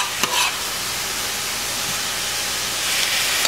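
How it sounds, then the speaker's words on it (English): Italian greens frying in a pan, a steady close sizzle and hiss throughout with a brief stir or clink near the start. "As you can see, they're frying up so nicely."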